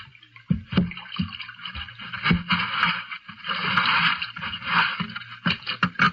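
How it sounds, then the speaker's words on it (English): A wooden boat is shoved off into the water with scraping and splashing, a few sharp knocks and a steady wash of water-like noise running throughout. "All right, push him out into the water."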